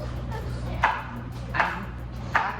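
Knife slicing jalapeño peppers on a cutting board, three evenly spaced crisp cuts landing about every three-quarters of a second, close and clear over a low hum.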